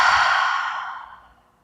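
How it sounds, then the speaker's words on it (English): A single long, deep breathing-out during a yoga stretch, breathy and close, fading gradually to silence over about a second and a half. "And exhale."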